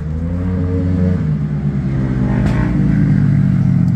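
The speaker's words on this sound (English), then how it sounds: "just wait for that noisy car to go past" A loud car rolls past near a roadside stealth camp, engine droning and revving steadily close by with no speech over it.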